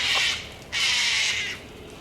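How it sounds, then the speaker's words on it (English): Cockatoos in an Australian park give two harsh, raspy screeches, the second longer and louder, close by and alone with no talk. "These are cockatoos."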